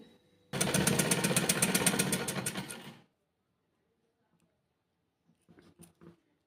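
Sewing machine stitching fabric for a neckline design, a loud, rapid run of stitches for about two and a half seconds that cuts off, followed by quiet and a few faint clicks.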